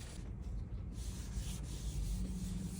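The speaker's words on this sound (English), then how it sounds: "I'm gonna rub it in a circular motion, like Mr. Miyagi." Gloved hand rubbing cleaner onto a car headlight in circular strokes, a soft, continuous close-up scrubbing and swishing with gentle rhythmic surges, quiet and without talk.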